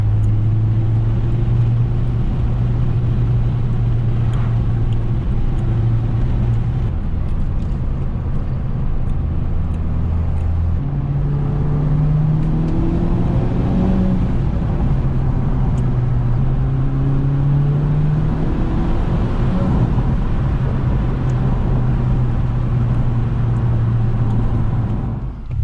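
A Honda Civic Type R being driven, its engine giving a loud, continuous drone for the whole stretch, with the pitch climbing and easing as it changes speed. No one speaks.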